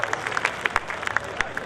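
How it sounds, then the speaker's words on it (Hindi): An audience claps steadily at a live talk in front of a crowd, with sharp, uneven claps forming a moderate, continuous patter. "एक बार इनके रिश्ते के लिए जरा जोरदार तालियां बजाइए"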